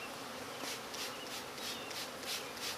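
Honeybees buzz around a backyard hive, a faint, steady drone with soft pulses as individual bees pass near.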